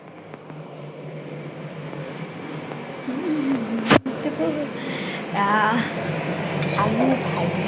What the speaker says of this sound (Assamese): আলু ভাজি আছো।